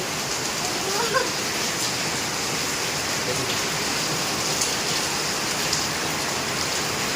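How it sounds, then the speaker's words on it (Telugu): Steady, dense rain hiss fills the whole stretch, constant and broadband like a downpour, with faint brief sounds flickering near the start. "వర్షం పడుతుంది కాబట్టి లైట్లు బంద్ చేయాలి."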